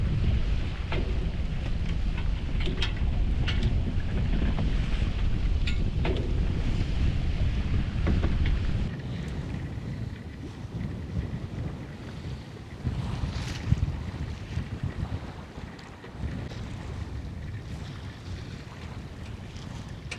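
Steady, loud wind buffets the microphone aboard a sailboat under both sails at good speed, with waves rushing and splashing against the hull, easing a little partway through but continuing throughout.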